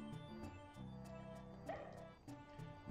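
Chain Chomp from the Yoshi's Island video game barking like a dog, a few short yapping barks over steady, busy game music.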